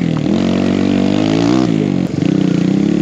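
A Kawasaki KLX140RF big bore dirt bike engine drones steadily on a slick mossy trail, revving up and easing off, with a quick throttle change partway through, loud and close.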